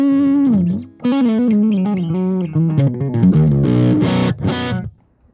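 Electric guitar played through a Kyro Audio Dulo amp pedal, with sustained chords and melodic bends ringing in a driven, slightly chorused tone before a final strummed burst cuts off into silence.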